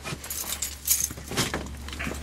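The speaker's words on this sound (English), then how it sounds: "Keys." A set of keys jangles close by in a cold garage or wrecker yard, several bright metallic shakes and clinks over a low steady hum, with no talk.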